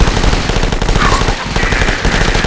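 A sustained burst of rapid Uzi submachine-gun fire from the video game The Last Stand rattles loudly and continuously with no pauses.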